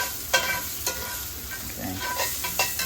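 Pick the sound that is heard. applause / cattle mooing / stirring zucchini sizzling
stirring zucchini sizzling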